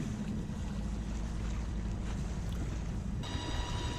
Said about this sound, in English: Yes, it's a Torpedo electric outboard.